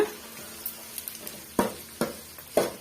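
Ingredients sautéing in a pan, likely garlic and curry leaves for a quick tamarind curry: a low sizzle with a few sharp spoon scrapes and stirs near the end, close by and without speech.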